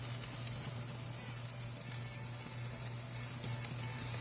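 A T-bone steak sears on a grill with a quiet, continuous sizzle, a steady crackling hiss carrying through without pause and no voices.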